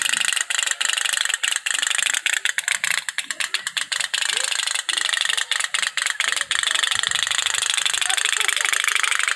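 A small otok-otok toy steam boat putt-putts in a rapid, loud, mechanical rattling pulse that stutters and shifts pace, heard close up and alone.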